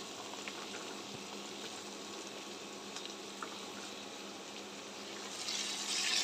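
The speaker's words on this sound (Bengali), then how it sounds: "আলুটা দিয়ে দেব দিয়ে আবারও ছোলাটাকে কষিয়ে নেব" Chickpeas and potatoes sizzle and fry in a pan, a soft continuous crackle with faint stirring, growing slightly louder toward the end.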